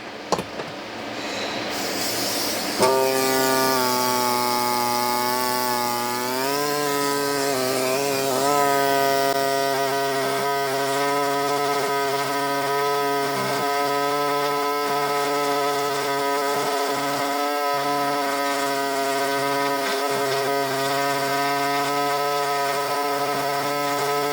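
A pneumatic ME9100 air scribe starts up after a few seconds and runs with a continuous high buzzing whine, working the matrix around the backbone of a large fossil needlefish; the pitch wavers slightly as pressure shifts, close and loud.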